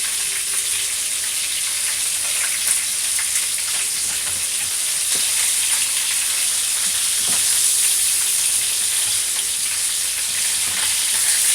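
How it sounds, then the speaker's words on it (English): Loud, continuous sizzling and crackling of bone-in chicken thighs frying in hot oil in a pan, with an occasional faint clink, close up and without talk. "after I finish frying these"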